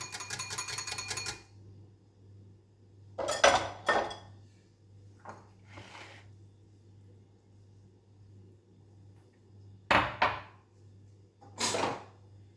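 Salad being tossed and mixed in a bowl, with three or four separate bursts of clattering utensil-on-bowl scraping and clinking between quiet pauses over a steady low hum.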